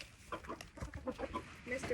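Backyard chickens cluck softly and irregularly at close range during feeding, short low calls overlapping in a quiet, busy chatter.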